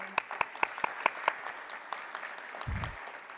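A handful of sharp, evenly spaced claps ring out at an academic talk on international university collaborations, then thin out into scattered faint taps, with a low thump near the end.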